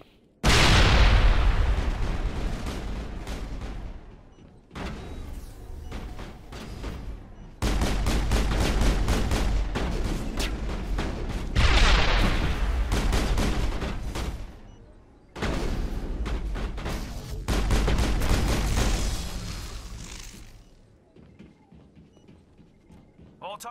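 Gunfire in the Mass Effect video game: long, loud bursts of rapid automatic shots with booming impacts, broken by short pauses and mixed with game voices and effects.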